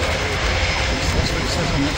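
An Extra EA300 aerobatic plane flies at an airshow, its engine giving a steady, loud, broadband roar throughout with no clear rise or fall.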